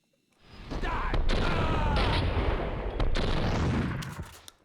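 Shotgun fire in Max Payne 2, a dense stretch of loud booming blasts and clattering action that sustains for about four seconds, with a brief voice in the mix.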